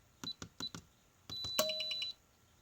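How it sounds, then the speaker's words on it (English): The control board of an ALEKO LM171 gate opener gives four short electronic beeps, then one longer tone with faint clicks, close and clear with no voices. "beeping on the control board."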